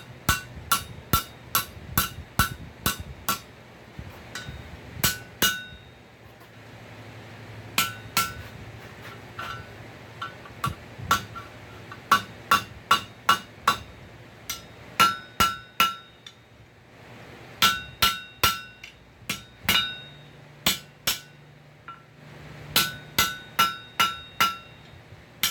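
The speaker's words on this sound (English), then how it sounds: "I'm going to go over the horn. Hammer that down." Sharp metallic hammer strikes on hot steel over an anvil horn while forging tongs ring out in rapid bursts, groups of quick blows separated by short pauses, close and loud with a bright anvil ring.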